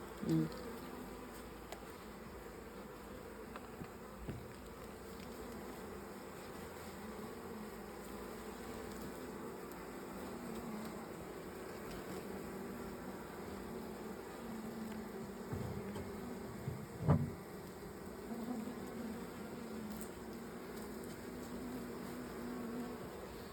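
A steady, dense hum of many honey bees buzzing close by around a hive, continuous throughout with a few brief louder bumps and clicks.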